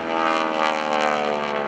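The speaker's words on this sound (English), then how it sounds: "That throaty rumble is the R-1340 Pratt with the radial engine." A Pratt & Whitney R-1340 radial-engine airplane performing at an airshow, its throaty propeller drone loud and steady throughout without pause.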